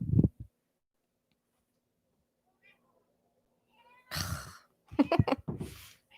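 A cat outside wanting to come in gives a short meow, then after a quiet pause lets out louder drawn-out meows and yowls close by.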